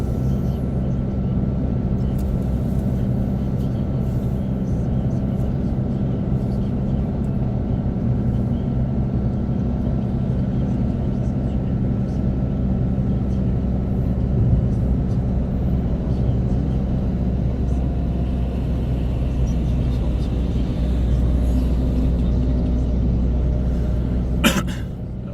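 Steady in-car road rumble as a car cruises along the L2 motorway toward Marseille, a continuous low drone holding level throughout with a brief knock near the end and no talk.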